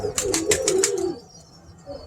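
A bearded butter wing Birmingham Roller pigeon hen gives a short run of soft, close coos, several quick pulses followed by quiet.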